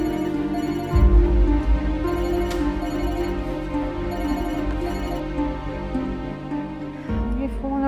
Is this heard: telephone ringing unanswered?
yes